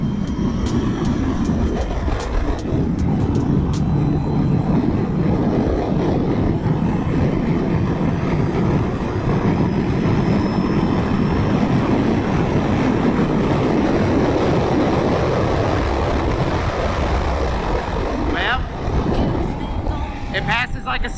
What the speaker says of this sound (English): We're gonna test the passing capability in 6th gear.